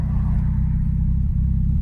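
A party wagon car's engine idles and revs close by, a steady low rumble with a throbbing pulse that holds loud and even throughout, with no voices.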